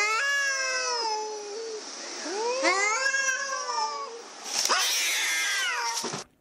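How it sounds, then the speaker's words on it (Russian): Two cats in a fight yowl and caterwaul loudly at close range, their long wavering cries rising and falling and overlapping in turns, with no talking. "Два представителя кошачьего рода несколько минут буквально гипнотизировали друг друга, сопровождая свои претензии боевым урчанием."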